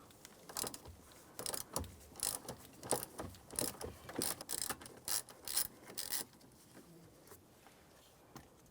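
A ratchet backs out a T27 Torx screw on the steering column of a 2000–2006 Chevrolet Tahoe, giving soft, close bursts of rapid clicking strokes that taper off into quiet.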